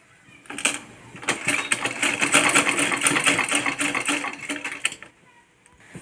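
A sewing machine stitching the side seam of a kurti, running in a fast, whirring mechanical burst of about four seconds that starts and stops, close and loud with no talk.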